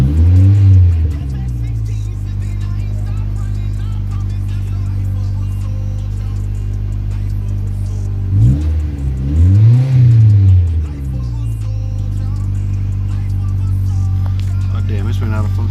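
A 2003 Mitsubishi Lancer ES engine idles steadily close by, then revs up briefly twice, swelling near the start and again midway, with a person talking over the running motor.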